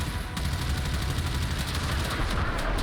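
Ship guns firing rapidly in Warframe, a dense, unbroken fusillade of loud bursts running the whole time without pause.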